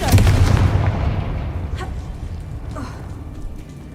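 A Confringo blasting spell goes off in Hogwarts Legacy as one loud, close boom that rolls away into a decaying rumble, followed by a couple of fainter pops and thuds.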